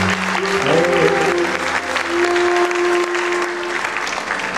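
Audience at a Sufi poetry concert applauds loudly and steadily throughout, a dense wash of clapping with faint sustained musical tones underneath.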